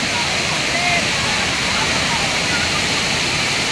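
Pang Sida waterfall in Thailand roars with loud, steady rushing water, a dense continuous wash close by with faint voices of people playing in the water.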